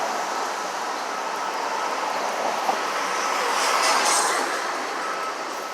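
Steady broadband roar of cars streaming past on an Upper West Side street in Manhattan on a July day, continuous and fairly close, swelling slightly as a louder vehicle passes, with no talk.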